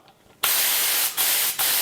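A gravity-fed spray gun with a 1.4 nozzle bursts into a loud, steady hiss of atomized spray, briefly dipping twice as the trigger is eased, with no talking.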